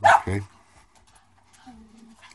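A dog gives two quick, sharp barks up close at the start, followed by near quiet while a person speaks briefly.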